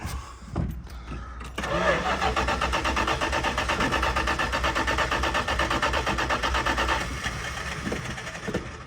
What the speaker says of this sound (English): wonder why even with gasoline down the carburetor it didn't want to start